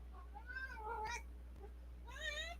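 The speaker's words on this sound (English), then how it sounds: "You're a noisy cat." A cat meows several times indoors, a couple of short wavering calls then a louder rising meow near the end, fairly close over a low steady hum, with no talk.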